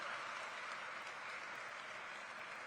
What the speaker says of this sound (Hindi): आप सबसे निवेदन करता हूं कि एक बार जोरदार तालियों के साथ आप उनका स्वागत और अभिनंदन करें।